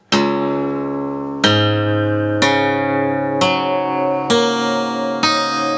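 A guitar tuned down to drop C, its strings struck one at a time in six ringing plucks about a second apart, each note sustaining and decaying, close and loud with no talking.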